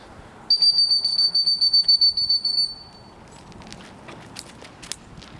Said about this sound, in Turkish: düdükle çağırıp bize gelmesini sağlayacağız